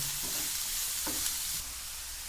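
Thinly sliced onions frying in a pan, a continuous bright sizzle with a couple of soft stirring scrapes, heard close and alone.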